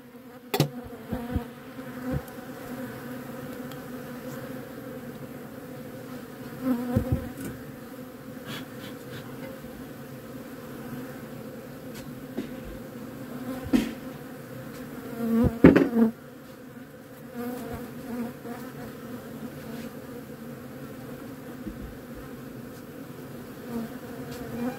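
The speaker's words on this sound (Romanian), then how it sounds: "Sigur că ăștia erau plini de albina." Honeybees buzzing around an open hive during beekeeping work, a steady close drone of many bees with individual insects flying past the microphone and occasional louder passes and handling knocks.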